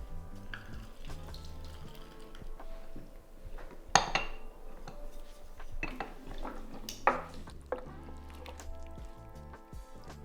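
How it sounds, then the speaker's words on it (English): Sliced fine green beans and lime juice stirred into a Thai red beef curry in a slow cooker: steady spoon scraping and clinks against the pot with wet, sloshing liquid sounds, a few sharper knocks, and no talk. "So stir in 200 grams or 7 ounces of fine green beans that have been sliced in half"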